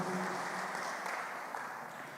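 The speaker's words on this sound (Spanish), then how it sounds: "Denle un fuerte aplauso a Jesús" Congregation applause during a church service, a dense wash of clapping that stays fairly steady and slowly fades over a couple of seconds.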